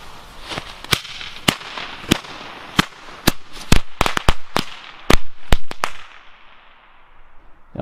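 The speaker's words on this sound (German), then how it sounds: "Jetzt die Funkknallfrösche C." Funke jumping frog firecrackers go off outdoors in light rain in a string of sharp, loud bangs at irregular intervals, bunching together before stopping, with a fizzing crackle beneath them.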